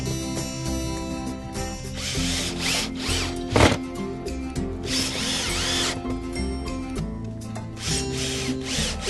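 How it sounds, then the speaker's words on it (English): Power drill driving screws into a wooden bat house, whirring in steady bursts close by with a sharp louder spike midway, continuous mechanical drone throughout. "now I'm just going to go ahead and set those screws in"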